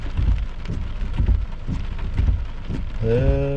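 Steady, dense rain falls during a thunderstorm in Quebec's Saint-Jean-sur-Richelieu area in June, with low rumbling bursts beneath the patter and a voice speaking briefly at the end.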